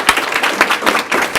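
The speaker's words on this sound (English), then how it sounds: "I just want to give a big round of applause to you" A school board meeting audience applauds to honor student winners, producing a loud, dense burst of clapping with close, uneven hand claps throughout this short moment.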